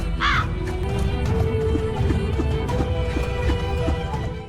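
Crows caw in a scene from the film Balagam, a series of loud, harsh, repeated calls in quick succession close by, set against a steady background hum.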